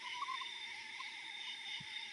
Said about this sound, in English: some kind of insect, maybe